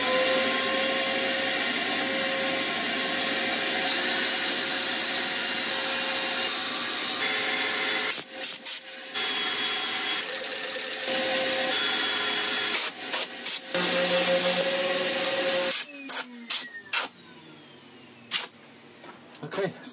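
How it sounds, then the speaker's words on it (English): An ash wood bowl turns on a lathe while being sanded, giving a steady loud whirring and rubbing drone with tonal hum lines and brief dips and interruptions toward the end. "Right, I shall set up for sanding."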